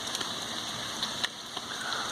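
Light drizzle falls outdoors in a backyard after heavier rain, a steady soft hiss with scattered faint drip taps, even in level throughout and with no voices.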